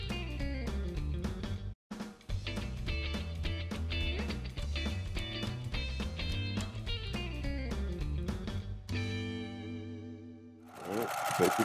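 A Brother PQ 5000 SL sewing machine stitches quilt rows together in rapid, loud mechanical runs, with one brief stop near the start and a final burst at the end.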